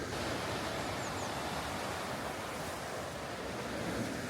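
Ocean waves wash against the rocky coast along a coastal hiking path, a steady broadband roar of surf mixed with wind buffeting the microphone, with no voices.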